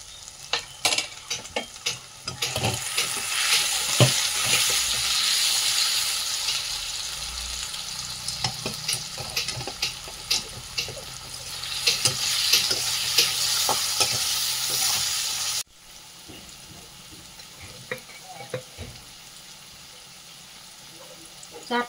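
Puti fish with salt and turmeric fry in oil in a pan, giving a steady, close sizzle broken by frequent scraping stirs, then a quieter stretch near the end.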